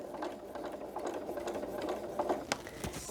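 A sewing machine sews a quilted Christmas star Santa cookie rug, a quiet, rapid rhythmic chatter of stitching with a few sharper clicks near the end, no talk.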